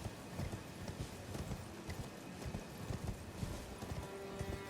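Horse hooves gallop in the video game Elden Ring, a fast, even clip-clop rhythm running throughout at moderate volume, with no voices over it.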